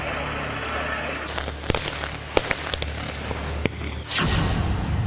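Firecrackers pop in scattered sharp bursts over a dense, noisy background, followed by a louder rushing crackle near the end, during Diwali celebrations in Delhi-NCR.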